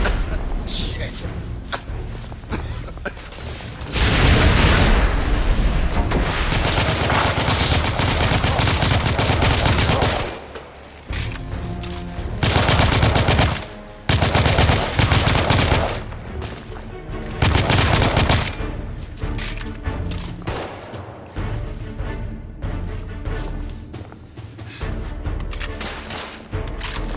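Machine gun suppressive fire in The Order: 1886, a Victorian-era shooter, comes in loud, dense bursts separated by short gaps. Several shorter volleys follow later, and voices may be mixed in.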